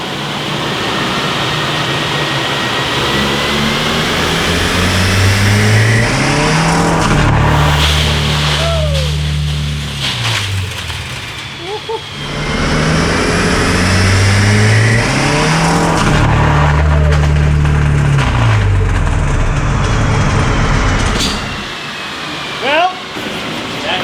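Stock car engine on a 100-shot nitrous, loud and close, revving hard in two long surges with a brief drop between, rough mechanical roar throughout.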